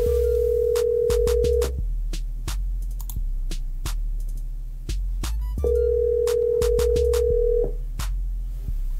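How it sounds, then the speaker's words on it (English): An outgoing telephone call rings back with two long steady tones of about two seconds each, separated by a pause and accompanied by small clicks, with no one speaking. "Answer that phone, mate."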